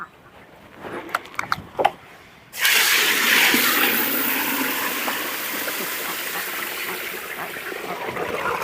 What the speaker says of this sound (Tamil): தண்ணி ஊற்றி ஊற வச்சாச்சு